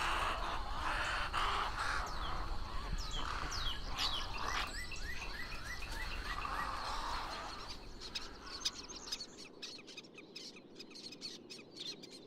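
Wading birds squawk and caw in a crowded overnight roost atop cypress trees in a freshwater delta swamp, loud overlapping calls that thin out toward the end.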